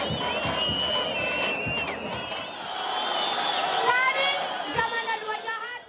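A passionate crowd at a Sudanese Professionals Association gathering cheers, whoops and chatters loudly, with shrill ululating and whistling voices rising above the steady roar of many people.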